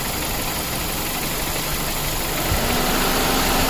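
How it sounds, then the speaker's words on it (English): A 2003 Toyota Celica GT with a 1.8 L engine and 5-speed, idling steadily with the air-conditioning compressor cutting in. A low continuous hum and mechanical whir stay close and even, with a faint shift in tone near the end. "so the compressor turns on."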